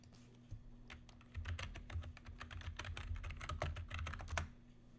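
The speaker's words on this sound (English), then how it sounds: "I think I typed all that in." Rapid, uneven keystrokes on a computer keyboard, clattering in close, steady bursts with a faint background hum and no talking.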